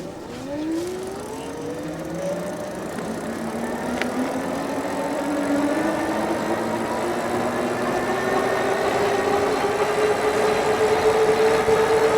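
Wing Freedom Fatty 2 electric bike motor accelerating up a gradual incline, a faint whine rising steadily in pitch, then levelling off over continuous road and wind rumble.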